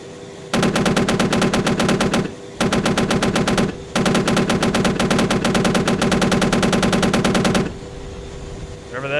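The chin cannon of an AH-64D Apache in a flight-simulator game fires in long, loud, rapid bursts with a steady mechanical rhythm, broken by short pauses, over a continuous rotor and engine hum.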